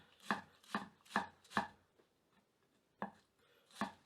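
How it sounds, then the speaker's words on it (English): A bunka kitchen knife slices through a carrot on a board, giving crisp, close chops: four quick even cuts, a pause, then two more. "So that's why I really like the carrot cut test."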